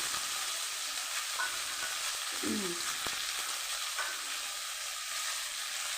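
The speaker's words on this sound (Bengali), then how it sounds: "চলুন আমি আগে শিমটাকে ভেজে নেবো একটু হালকা নেড়ে" Flat beans fry in hot oil with cumin, giving a steady, close, even sizzle throughout with a few faint scrapes of stirring and no talking.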